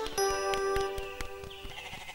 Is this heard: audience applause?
no